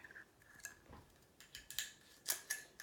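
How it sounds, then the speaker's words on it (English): Sharp snips of small cutters or scissors through bead stringing wire for a bracelet, a few quick metallic clicks clustered near the end, close up and fairly quiet with no talking. "And you just cut about 10 inches off for your bracelet."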